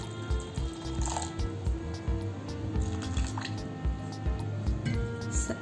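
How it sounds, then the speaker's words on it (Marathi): Water pours into a bowl of washed sabudana (sago pearls), close splashing and dripping in uneven bursts with small squishy sounds, no talk. "आता आपण साबुदाणा बुडेल इतकं पाणी याच्यात घालू"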